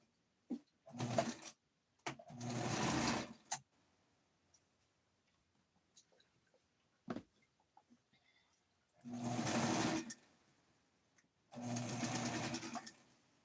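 Sewing machine basting sleeve seams on a dress of wool and a pretty fabric, running in several short bursts of rapid stitching separated by quiet pauses and small clicks, close and clear.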